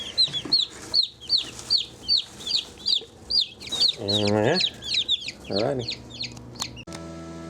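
Chickens cluck repeatedly in a quick, busy rhythm while being moved in a chicken transport bag, with a few louder squawks mixed in and a brief spoken word near the start.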